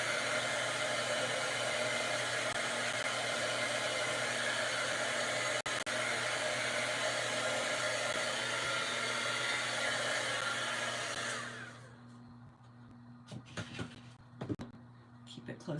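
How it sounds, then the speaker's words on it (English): A craft heat tool blows hot air to dry paint between layers on a plastic Dollar Tree piece. The whirring blower runs steadily up close for about eleven seconds, then cuts off, leaving quiet room noise and a few knocks. "Dry it in between layers, and you don't want to get your heat tool too close because you don't want to melt the plastic."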